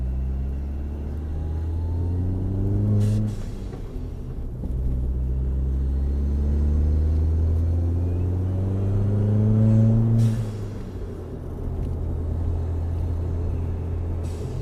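Ford Fiesta ST with a 2J Racing catless 3-inch downpipe, catback exhaust and blow-off valve pulls hard. Its deep rumble rises through the gears, broken by two sharp bursts at the shifts, heard loud and close.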